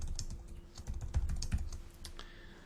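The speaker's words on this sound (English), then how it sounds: "I'll type in my own username and click continue" Keys clatter on a computer keyboard as a username is entered, a quick irregular run of close, fairly soft clicks with short pauses between bursts and no talking.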